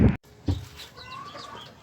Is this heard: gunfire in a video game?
no